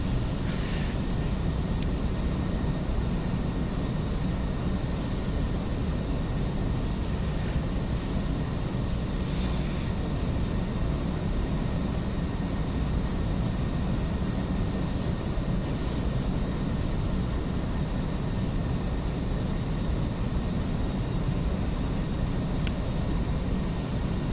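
Freight train on a heavy grade in the Open Rails train simulator, with a steady low rumble and rolling noise that holds level throughout, no pauses and no voices.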